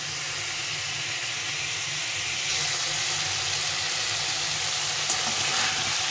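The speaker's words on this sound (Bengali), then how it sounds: "এইভাবে আমি ভালো করে কষিয়ে নেব ফুলকপিটাকে।" Cauliflower and potato stir-fried in a pan, a dense, continuous sizzle and hiss of hot oil with soft stirring movements, steady and close throughout.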